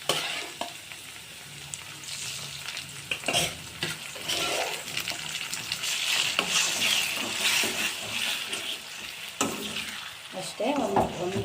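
Brinjal bajji pieces frying with onions in a pan give a steady broad sizzle, with stirring scrapes and a few utensil clinks throughout; no talking.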